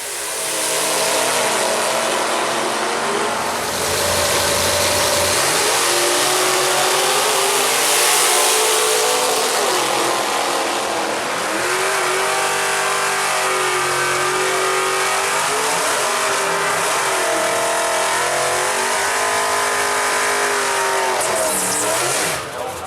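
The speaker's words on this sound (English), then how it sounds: "begin another round of racing under the lights." Gasser drag race cars roar and rev at Emerald Coast Dragway during night racing under the lights, a loud continuous engine blare with rising and falling pitch that fills the whole stretch.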